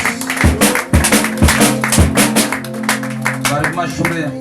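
A church congregation claps hands in a steady rhythm, the sharp claps coming about twice a second and loud and close, with singing and voices running underneath.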